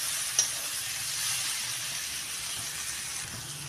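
Spices fry in a pan for a soybean, potato and egg curry, giving a steady, soft sizzling hiss with one small pop near the start and no talking.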